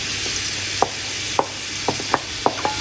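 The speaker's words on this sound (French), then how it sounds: "Et on va ajouter nos oignons, notre ail et notre échalote." Onions, garlic and shallot sizzle in melted butter for an onion pasta sauce, a steady close frying hiss broken by several sharp utensil clicks against the pan.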